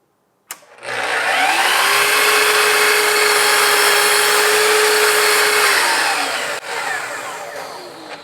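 A power saw spins up and cuts through cabinet wood for kitchen cabinets, a steady loud whine with a tonal drone that holds for about five seconds before winding down into a trailing hum.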